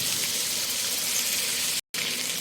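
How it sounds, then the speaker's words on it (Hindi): Garlic and ginger paste fries in leftover oil from cooking okra, a dense, steady hiss close by with one brief silent break near the end; no speech. "तो इसको मैं 2 से 3 सेकंड तक फ्राई करूँगी, ताकि इसका कच्चापन खत्म हो जाए।"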